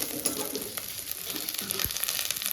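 Dried red chilies fry in hot oil for guava chutney, a steady close crackling sizzle with light stirring scrapes and no voices.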